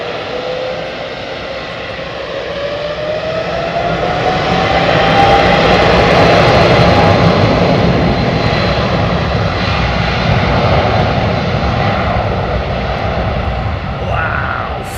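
American 737 jet airliner departing Miami at takeoff power, a loud continuous roar that swells and holds for the whole stretch, close by, with someone talking over it.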